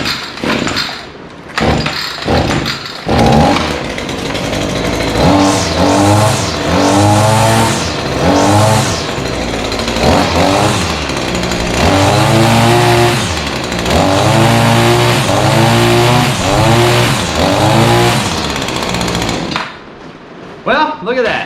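A SCAG commercial mower with a newly swapped engine cranks with a few quick turns, catches on the first try and settles into a loud, close running drone that rises and falls with throttle.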